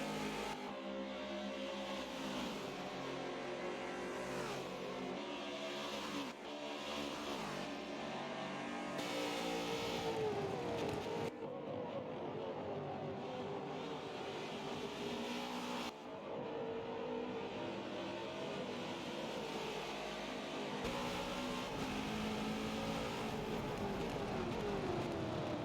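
Supercars race around Bathurst in a video game, engines roaring and revving continuously with gear changes and passing cars, loud and steady throughout.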